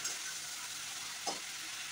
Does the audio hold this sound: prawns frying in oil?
yes